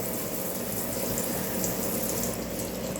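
Tap water runs in a steady, fairly loud stream over an ear of corn held beneath it, a constant splashing rush with no pauses.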